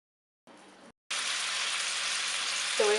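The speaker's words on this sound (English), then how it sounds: "so we have our meatballs frying in the frying pan" Meatballs fry in a hot pan, a bright, loud, continuous sizzle that bursts in after a short quieter crackle and a moment of silence, with a faint squeak near the end.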